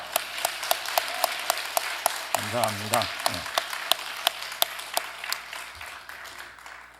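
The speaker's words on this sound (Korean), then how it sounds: "할렐루야 하고 큰 박수로 하나님께 영광 돌립니다" A church congregation claps steadily and warmly, sustained applause filling the room while someone speaks briefly over it.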